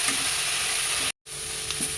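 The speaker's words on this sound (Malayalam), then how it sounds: "ഇനി നമുക്ക് നന്നായിട്ട് ഇളക്കാം കേട്ടോ" Coconut candy mixture stirred in a pan, a dense steady sizzle with scraping, briefly broken by a moment of silence before resuming, no talk.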